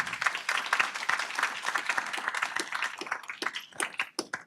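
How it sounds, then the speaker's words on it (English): An indoor audience at a community winter-readiness training session claps together in dense, sustained applause that thins into a few scattered claps by the end, fairly loud and close. "Please give them a round of applause"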